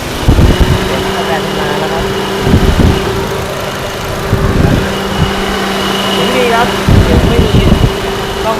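A 2016 Suzuki Ciaz 1.2 engine idles with a steady fan-like whir from the air conditioning, while someone talks intermittently over the hum.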